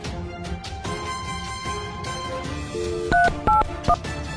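Telephone keypad tones being dialed in the Sakura School Simulator game, a quick series of short electronic beeps near the end over steady background game music, with no speech.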